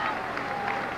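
A stadium crowd applauds and cheers after a women's 3000 m athletics race in Durban in 1991, a dense, steady wash of clapping and crowd noise throughout.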